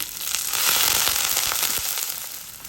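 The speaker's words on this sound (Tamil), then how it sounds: "இப்போ இந்த வெங்காயம் பச்சை மிளகா உள்ளி மூண்டும் பதங்கோணும்" Onion, green chili and garlic fry in a pan, giving a steady bright sizzle with soft crackles and pops, fairly quiet and close, with no talking.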